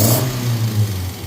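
A Datsun Fairlady roadster with an EFI conversion runs steadily on a dyno, a loud low droning engine note holding even throughout, with no voices.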